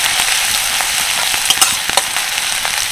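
Cumin seeds and grated ginger-garlic fry in a little oil, a loud, close, steady sizzle with scattered crackles and a few stirring scrapes.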